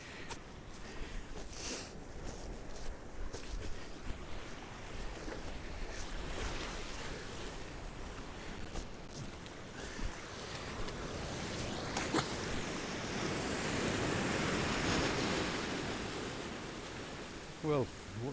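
Ocean waves washing over rocks along a shoreline during cod fishing, a continuous rushing surf with wind that swells and recedes, faint and fairly distant, with no clear talk.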